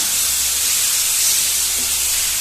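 Two tomatoes hit a hot pan and are stirred while cooking tomato rice, giving a steady close hiss and sizzle of frying that holds evenly throughout.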